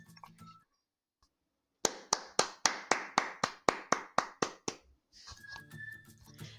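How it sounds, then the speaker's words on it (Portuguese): Hands clap in a steady run of about a dozen crisp, evenly spaced claps, loud and close, with brief quieter sounds before and after. "Também podemos ouvir os sons de palmas"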